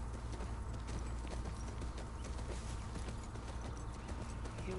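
Horse hooves clip-clopping in the video game The Last of Us Part II, a continuous steady rhythmic trot mixed into dense ambient game sound, fairly faint and without speech.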